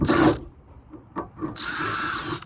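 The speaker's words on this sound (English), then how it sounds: "Now we're going to drill a hole through the roof." A power drill boring a hole through a camper van roof, two close bursts of whining drill noise separated by a brief pause with faint handling knocks.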